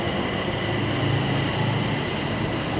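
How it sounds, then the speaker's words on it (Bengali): A Bangkok metro train rumbles by nearby with a dense, steady roar of wheels and motors, heard alone without talk. "যাক এই ট্রেনটি মিস করছি প্রবলেম নাই এরপরেরটায় যাব"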